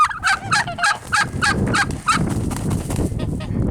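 A turkey gobbles in a rapid, rattling run of about eight pulses, close and loud. A rumbling, noisy background without calls follows.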